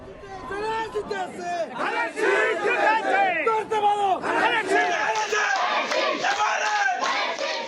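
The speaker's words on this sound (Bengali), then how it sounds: "বিজয় উল্লাসে মাতোয়ারা কর্মী সমর্থক।" BNP party supporters celebrate an election victory in Bangladesh, a loud crowd chanting and shouting slogans together in rhythmic waves, close and continuous, with the chant rising and overlapping voices throughout.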